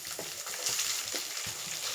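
Onions and green chillies fry in a pan for poha upma, giving a steady, close sizzle with soft scraping stirs at irregular intervals.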